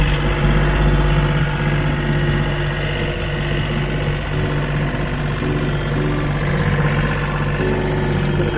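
A TYM tractor with a front loader drives steadily on a rural property, its diesel engine giving a loud, constant drone with a low rumble that holds throughout and no talk over it.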